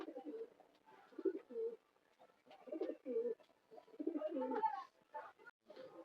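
Pet pigeons, including new birds kept with a pair of chicks, coo close by in repeated throaty, rolling bursts separated by short pauses.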